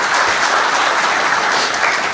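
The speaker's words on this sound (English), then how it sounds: "Let's give him a round of applause." Dense, steady applause from a conference audience at an anti-money laundering and financial crime dialogue, filling the whole stretch without a break and with no speech over it.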